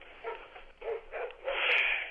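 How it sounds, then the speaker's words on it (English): A dog barks inside a house as a door opens, giving a few sharp, fairly close barks in uneven bursts with a longer, louder run of yips at the end. "I open the door, and he starts barking."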